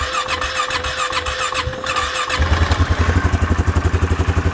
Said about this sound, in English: she still runs and drives fine. I mean, she starts right up.